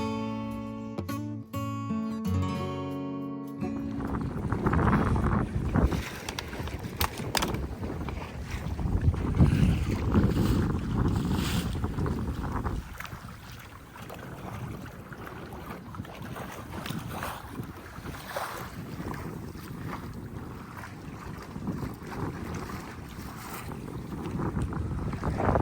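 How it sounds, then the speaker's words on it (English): An O'Day Osprey sailing dinghy moves at about five knots down into a bay, with rushing water and heavy wind buffeting the microphone in a constant roar, preceded by a brief tonal burst at the start. "We're sailing. We're making good speed, about 5 knots right here, heading down into the bay."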